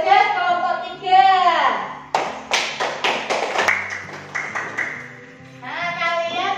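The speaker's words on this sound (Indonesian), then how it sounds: "Ya, tepuk tangan untuk Mas Bagas kelompok 3." A primary school class claps for a pupil, a short burst of rhythmic hand claps between stretches of a teacher talking.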